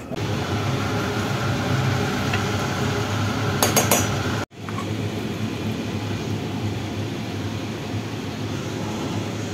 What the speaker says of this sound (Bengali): সবজিটা আমি আলাদা আলাদা করে রেখে দিলাম, অর্ধেকটা আমি একটা বাটিতে অর্ধেকটা আরেকটা বাটিতে নিয়ে নিলাম